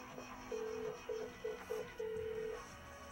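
Telephone dialing in a video game: a short series of steady electronic tones, five beeps of varying length with brief gaps between them, faint and alone without speech.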